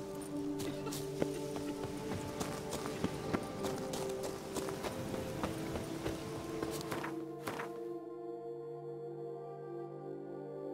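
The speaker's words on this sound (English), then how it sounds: "Even a horse drops if you ride it at a constant gallop." A horse gallops in The Witcher 3 with fast, steady hoofbeats and clattering tack, then the hooves cut off near the end, leaving a soft sustained musical tone.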